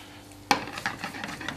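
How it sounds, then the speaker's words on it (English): Pasta being stirred in a pan of simmering tomato sauce with seafood, a sudden scrape and splash followed by soft bubbling, sizzling and wet stirring noises, close and moderately loud. "I'm going to cook the pasta in the pan with the tomato"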